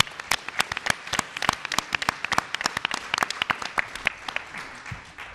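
A conference audience applauds, a scattering of individual claps forming a sparse, uneven round that tapers off over several seconds, with no talk over it.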